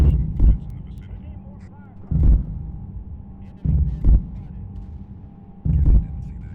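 An AC-130 gunship in the video game Metal Thunder fires heavy cannon rounds as deep, booming thuds, roughly five spaced shots a second or so apart over a steady low engine hum, with speech audible in places.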